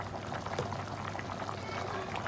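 Water bubbles and simmers steadily in a pot of cooking chicken yakhni rice pilaf, a soft continuous seething with small pops, close but fairly quiet.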